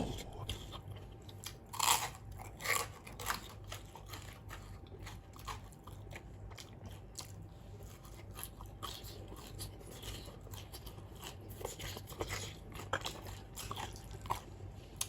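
Crunchy chewing of hard, dried fish eaten with rice noodles in fermented fish sauce, repeated close bites and crackling crunches in an irregular rhythm, with no talking.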